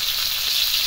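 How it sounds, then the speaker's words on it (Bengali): Fish frying in oil in a pan while a seafood curry is prepared, giving a steady, close hiss of sizzling with no talk over it. "মাছগুলো ভাজা হতে থাকুক।"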